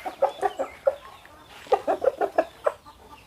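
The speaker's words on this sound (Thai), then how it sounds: "ไก่สีสวยนะครับเหลืองหางขาวเนาะ" Yellow rooster with a white tail clucking in short bursts on a farm, a loose run of close, moderately loud calls, a brief pause, then a second denser run.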